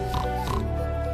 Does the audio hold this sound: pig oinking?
yes